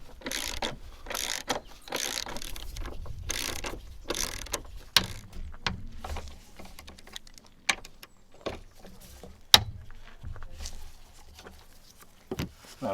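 Trolley jack being pumped under a Volvo S80 engine propped with a block of wood, giving repeated ratcheting clicks and mechanical creaks in short bursts, close and fairly quiet.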